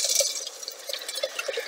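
Tomato juice pours into a pot for Canadian Caesar soup, giving a soft, continuous liquid trickle with small drips and splashes that stays fairly close and steady for under two seconds.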